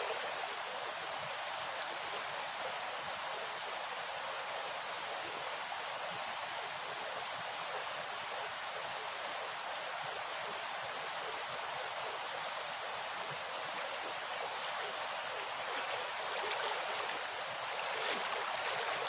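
A flowing stream rushes steadily with an even, broad hiss and no breaks, heard up close and alone for the whole stretch.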